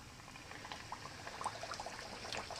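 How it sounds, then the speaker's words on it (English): Breaded catfish sizzles quietly in hot oil as small, irregular crackles and pops rise over a soft hiss, picking up slightly toward the end. "And you see it starts to sizzle immediately."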